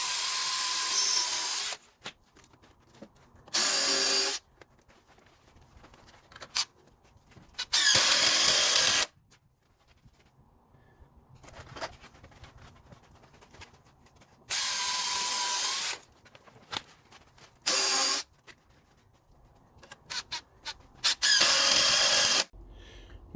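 A power drill drives screws into a wooden catio garden gate, several loud whirring bursts of a few seconds each separated by quiet pauses, close and alone without speech.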